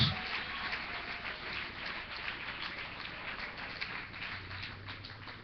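A church congregation applauding during a Spanish-language evening sermon: a continuous, moderately quiet wash of many hands clapping, holding fairly even throughout.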